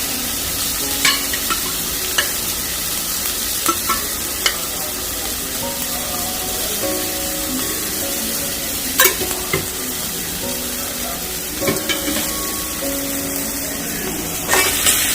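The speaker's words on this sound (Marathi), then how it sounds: "कांदा एकदम गोल्डन झाला पाहिजे इथपर्यंत याला हलवत राहा" Two chopped onions stirred in hot oil for a chicken dish hiss loudly and continuously, with occasional sharp clicks of the spoon against the pan; nobody talks.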